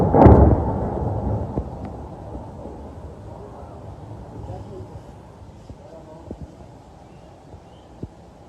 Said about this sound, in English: some of the videos from today where they've started bombing Idlib